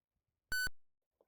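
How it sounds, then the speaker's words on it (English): A single short electronic double beep from the computer game Ultrabots, clear and close against near silence, followed by a faint soft blip. "there is the beeping sounds"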